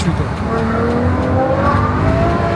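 A Ferrari V12 engine being revved, a loud, steady, rising drone heard from inside the car while moving along a road, with someone talking over it.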